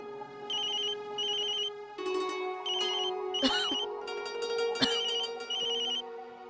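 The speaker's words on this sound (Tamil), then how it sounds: "ராதிகா ஃபோன் பண்றாங்க." A telephone rings in a domestic TV-serial scene, its electronic ringtone repeating in clear bursts for several seconds with no talk over it.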